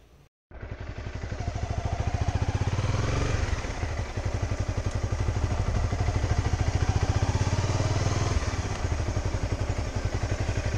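A Kawasaki Versys 250cc motorcycle rides through a bamboo forest, its engine chugging loud and close in a rapid, steady pulse after a brief quiet start, with road rattle and clatter throughout.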